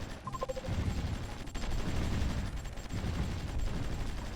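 Artillery barrages in the strategy game Supreme Ruler Ultimate, a steady rumble of dense, overlapping booms and blasts that continues throughout, with no talking.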